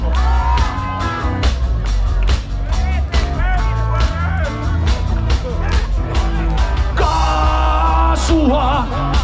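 Concert crowd at a Finnish rock gig shouting a name together, loud and sustained over pounding live band music, with yells and whoops rising throughout.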